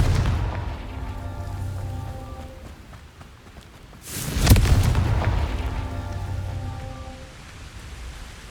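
In the video game Hogwarts Legacy, the Confringo spell sets off a single sudden fiery blast midway, rising sharply and then fading, over a low ambient rumble.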